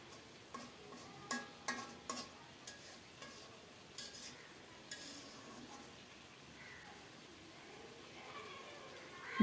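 A utensil gently stirs fried tangra fish with eggplant, green chillies and chopped coriander in a pan, giving a few soft scraping clinks early on over a faint, quiet background sizzle.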